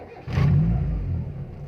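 A warm Timor DOHC car engine cranks and catches with a sudden burst, and its revs climb before settling into a steady, close rumble.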